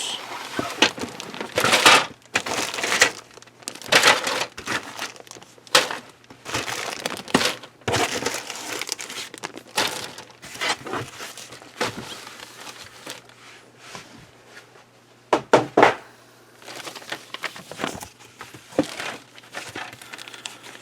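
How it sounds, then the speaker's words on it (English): Plastic sprues from a large Revell 1:72 Airbus A400M Atlas model kit are lifted out of the cardboard box, producing a steady run of close crinkling, rustling and crackling bursts with a few sharper knocks, no talk over it. "So let's go ahead and get them all out of the box."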